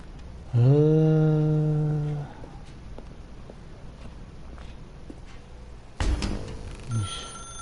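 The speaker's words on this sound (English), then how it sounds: "Now pick up the phone" A telephone in the video game The Stanley Parable rings once as a long, steady electronic tone. Quiet room ambience follows, then a sudden louder burst of game sound near the end.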